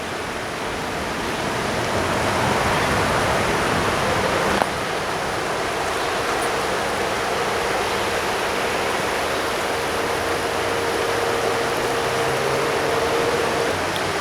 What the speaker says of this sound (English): That is the definite sound of a river.